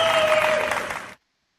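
A played cheering-and-applause sound effect, a short dense burst of clapping and crowd cheer that fades and cuts off abruptly after about a second.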